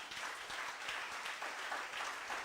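A church congregation applauds during a worship service, a faint, distant patter of many hands clapping steadily for a couple of seconds.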